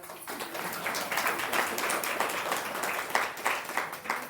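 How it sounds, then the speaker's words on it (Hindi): Clapping from an audience gathered in a hall for a class, a steady crowd applause with dense, rhythmic hand claps at moderate loudness. "ताली तो बजाओ।"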